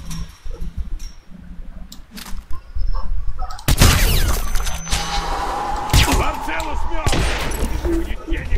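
Gunfire in the video game Hitman Absolution, a run of sharp shots and bangs over game background noise, growing louder midway, with a voice speaking underneath.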